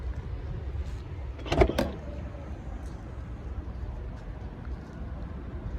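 The electric tailgate motor of a Skoda Superb 2.0 TDI DSG gives a short whirring burst near the middle, close by, against an otherwise quiet background.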